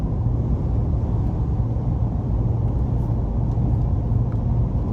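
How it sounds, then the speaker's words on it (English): Steady, continuous low road and tire rumble inside a 2023 Nissan Titan PRO-4X pickup cruising on the interstate on General Grabber tires, a constant droning hum with no talking. "And the road noise is really, I don't know if it's the general grabber tires that are on here"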